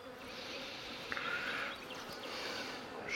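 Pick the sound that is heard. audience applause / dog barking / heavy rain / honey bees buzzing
honey bees buzzing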